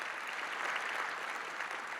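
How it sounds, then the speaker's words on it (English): Steady applause from a crowd, continuous clapping without pauses, moderately distant and even in loudness throughout. "let's give them a round of applause"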